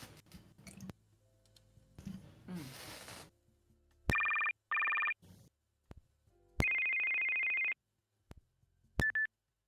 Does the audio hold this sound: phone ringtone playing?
yes